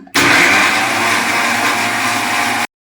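A kitchen mixer grinder blends spinach with green chillies for palak rice, a loud, steady close-up whir that starts suddenly, holds for about two and a half seconds and then cuts off abruptly.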